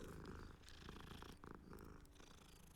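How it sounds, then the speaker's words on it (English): Midnight, a cat in the video game Hogwarts Legacy, purrs in a close, continuous, rhythmic rumble of fairly low level, with brief clicks and game sounds alongside and no talk. "Oh, it's a cat. Oh, it's Midnight."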